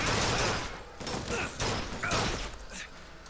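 Gunfire in BioShock Infinite, a few loud, close shots and thuds in an irregular rhythm inside a dense, noisy game mix.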